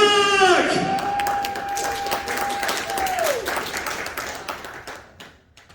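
Audience applause for a performer at a pony convention, a burst of clapping and cheering under a sustained sung or shouted note, gradually thinning and fading away.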